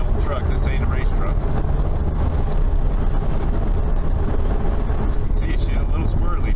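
A stock Dodge Dakota pickup climbs an old hillclimb race trail, its engine a constant loud rumble heard from inside the cab, mixed with road noise and wind buffeting.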